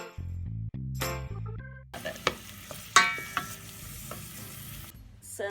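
A short run of melodic electronic tones gives way to onions frying in butter in a pan, a steady close sizzle punctuated by a few sharp clinks of a utensil against the pan.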